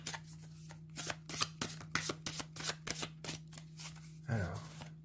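Dixit cards are reshuffled by hand in quick bursts of riffling and snapping, close and crisp, with a brief sound near the end.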